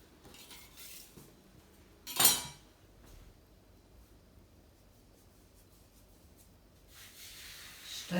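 A knife cuts through floured pasta dough for pasta with chickpeas, making one sharp, close knock against the board and later a softer scrape, with quiet gaps between.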